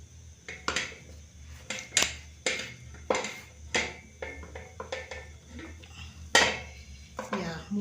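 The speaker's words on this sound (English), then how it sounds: "I'm continuing to mix the dough with the wooden spoon until most of the flour has been mixed." A wooden spoon mixes gluten-free samosa dough in a pan over a flame, knocking and scraping against the pan in a dozen or so irregular close thuds and clacks with soft shuffling between.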